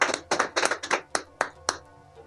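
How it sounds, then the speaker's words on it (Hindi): A small crowd claps in a few loose bursts to welcome a guest at a Green Maha Kumbh Mela 2025 event, the applause sparse and uneven before it trails off. "जोरदार ताली के साथ सर का स्वागत किया जाए।"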